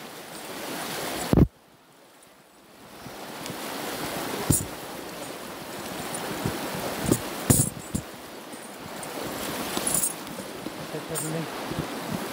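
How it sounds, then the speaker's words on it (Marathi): Strong current of the Narmada river rushing past, a steady broadband roar of flowing water that cuts out briefly near the start, with occasional close knocks and handling bumps. "खूप पाण्याचा ओढ आहे, बघू शकता हे किती ओढ आहे."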